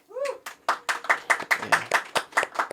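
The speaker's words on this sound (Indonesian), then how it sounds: "Berikan tepuk tangan semua ya." A small group claps for an accounting graduate at a seminar, with distinct, evenly spaced hand claps in a steady rhythm close by, slightly uneven at the start and heard alone without talk.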